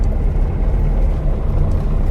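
A Porsche 912 engine idles at a fast idle, a steady low rumbling drone that stays close and even throughout, with no speech.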